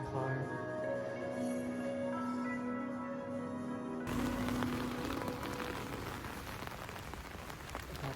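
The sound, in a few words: pouring rain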